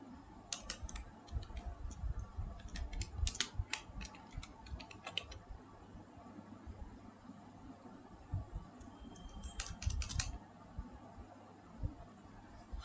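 Typing on a computer keyboard into a text box, quick clusters of faint key clicks in two short bursts separated by a pause, quiet and close, no speech.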